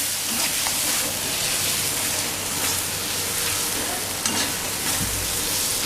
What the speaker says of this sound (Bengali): এই সময় আমি ভেজে রাখা আলুটা দিয়ে দেব।